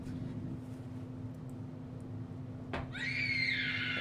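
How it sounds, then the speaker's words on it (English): Screaming from the horror video game The Joy of Creation bursts in suddenly after a sharp hit, a loud wavering cry rising over a constant low hum and dark ambient drone. "that's the screams"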